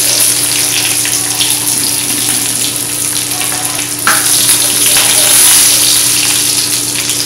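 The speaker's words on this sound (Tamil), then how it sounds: "கடுகு, கடுகு பொரிஞ்சிருச்சு." Mustard seeds crackle and pop in hot oil as a tempering for lemon rasam, a steady sizzling hiss with scattered sharp pops running throughout, close and fairly loud.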